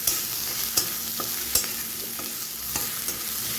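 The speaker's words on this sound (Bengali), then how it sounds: "রসুনটা একটু লাল লাল করে ভাজবো" Garlic frying over a medium flame for palak paneer with whole garam masala, a steady sizzle broken by sharp spatula taps and stirring clatter.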